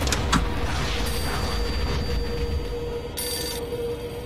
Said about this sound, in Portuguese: Telefone tocando